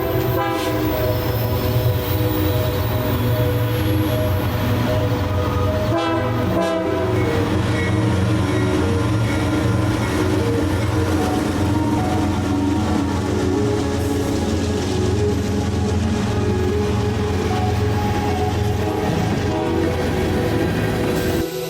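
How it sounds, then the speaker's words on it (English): An eastbound BNSF empty grain train led by a Dash 9 locomotive rolls past close by, a loud, steady rumble of engine and wagons with horn-like tones and a brief clatter partway through, no talk. "an eastbound BNSF empty grain train with a Dash 9 on the point"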